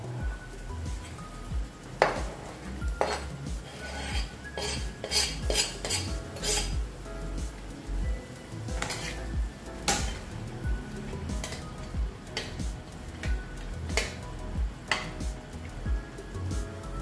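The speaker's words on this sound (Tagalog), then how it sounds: "Lagay na natin itong tofu guys." Tofu goes into a pan of Filipino sarciado and is stirred, with a metal utensil scraping and clinking against the pan in repeated sharp taps and scrapes. The sounds are close and steady, with no talking.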